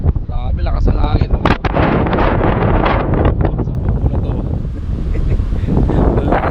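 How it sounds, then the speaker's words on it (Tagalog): Strong wind buffets the microphone on a beach at Palmeras Beach in Batan, Aklan, a loud continuous roar with sharp gusty bursts while someone talks over it. "Grabe, lakas ang hangin."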